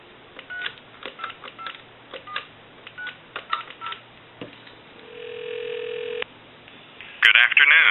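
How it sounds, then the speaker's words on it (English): A 1927 Thomas Collectors Edition country telephone under repair gives a steady dial tone for about a second, preceded by scattered clicks and tapping. A short burst of loud recorded speech comes in at the end. "We'll go ahead and give you some dial tone,"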